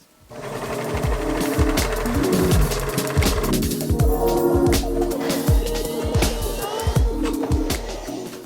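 A sewing machine stitches the side seams of a summer dress in close, rapid bursts of mechanical chatter, starting after a brief quiet moment and running steadily with small pauses and changes in speed.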